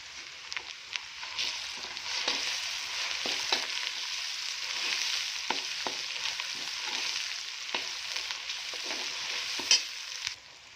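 Onion masala sizzling in a pan as it is stirred with a spoon, a steady frying hiss broken by repeated scraping strokes, heard up close with no talking.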